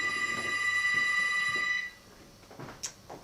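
A telephone bell rings loudly and steadily for close to two seconds and then stops, leaving quiet room tone and a few faint sounds.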